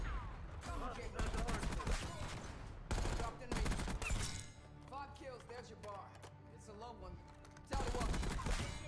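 AMES 85 assault rifle bursts in Black Ops 6 gameplay: rapid full-auto volleys in several loud bursts with short pauses, plus quieter in-game clatter between them.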